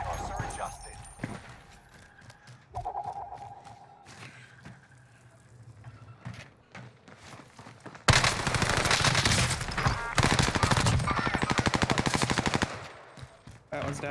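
Call of Duty Warzone gunfire on Rebirth Island: a few scattered shots, then a long, loud, sustained automatic burst of rapid shots lasting several seconds. Players talk over the action.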